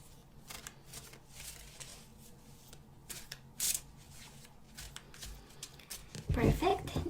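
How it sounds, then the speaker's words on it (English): Tarot cards are riffled and shuffled in bursts of soft crisp flutters and snaps, close and quiet, ending in a louder rustle as the deck is handled, with speech present in the background. "Now let's cut the cards and see the bottom of the deck"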